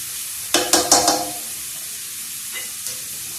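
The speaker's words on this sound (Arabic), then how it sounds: "من بعد ما شحر البصل والثوم الزويته" Onion and garlic sautéing in olive oil for paella, a steady sizzling hiss with a quick cluster of three or four loud stirring clatters early on and a couple of softer scrapes later, no voices.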